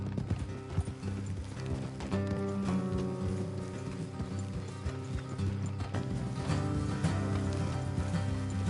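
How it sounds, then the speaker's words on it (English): Several horses trot along a road in Red Dead Redemption 2, with quiet rhythmic clip-clop hoofbeats and creaking tack under soft game music. "let's leave the horses here and go the rest on foot"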